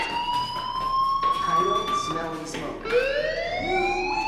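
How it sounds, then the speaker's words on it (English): Fire alarm ringing in the video game Life is Strange, loud sustained electronic tones that rise and shift in pitch, repeating in overlapping wails with brief breaks, mixed with other game sounds. "Hey, do you hear that fire alarm?"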